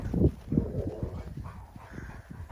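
Dog barking outdoors in snow: a few short, gruff barks up close, followed by softer, irregular scuffling and low noises.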